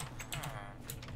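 Quick bursts of computer keyboard typing, several light clicks in an irregular run, close and faint, as a name is entered into a Minecraft anvil.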